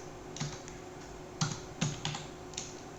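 Java code being typed on a computer keyboard, a quick irregular run of close, crisp key clicks with a few heavier strikes over a faint steady hum.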